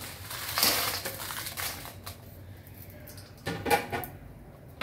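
Dried chillies go into a pan with a little oil for light roasting. Scattered crackles and crinkling rattles come in two main bursts, close and fairly quiet, with a short metallic clink.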